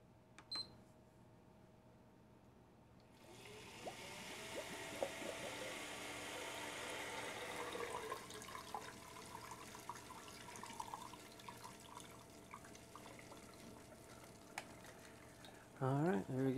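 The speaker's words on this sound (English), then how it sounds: "we'll just fill it with some water and we should be all good to go" Water trickles and runs steadily for many seconds while filling the liquid cooling loop of a modified PS3 Slim, a soft continuous flow with small clicks and handling noises around it.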